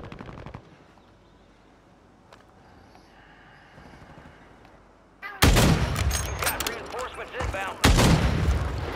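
Rapid automatic gunfire from a Call of Duty match bursts in loud and dense after a quieter stretch, with a brief pause before another volley of shots.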